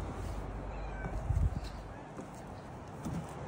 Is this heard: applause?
no